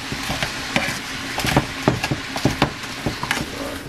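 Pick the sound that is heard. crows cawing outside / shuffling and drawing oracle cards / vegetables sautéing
vegetables sautéing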